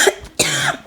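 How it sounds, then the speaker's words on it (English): A single close, loud adult cough, a short sharp burst followed by a rougher, longer exhale, heard alone. "I'm going to cough."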